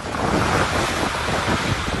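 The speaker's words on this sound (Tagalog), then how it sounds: "Ramdam din ang lakas ng hangin at ulang dala ng bagyo sa Gonzaga" Strong gusting wind from Typhoon Ofel roars across the microphone in Gonzaga, Cagayan, with a dense rushing wash like heavy rain, loud and continuous throughout.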